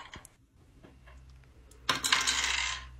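An eight-sided die (D8) is rolled: a few faint taps at first, then a bright clattering tumble that rattles on for about a second, close and alone without talk.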